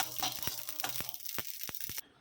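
Fenugreek seeds fry in oil for a tomato pachadi, giving a quiet hissing sizzle broken by small crackling pops that thin out near the end.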